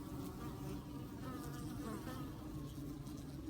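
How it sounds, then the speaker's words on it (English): Honey bees swarm around their hive in a dense, continuous buzz that stays close and steady throughout, with no voices over it. "She is not letting that other bee in."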